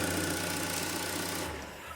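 A car engine with a dead battery and a non-charging alternator runs with a steady mechanical drone, then cuts out abruptly partway through as the battery negative is disconnected, leaving a faint fading tail.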